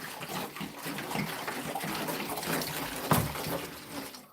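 Five gallons of settled water poured from a jug into a Gardyn hydroponic tank make a steady gurgling rush of liquid, close and continuous, with a brief louder splash near the end.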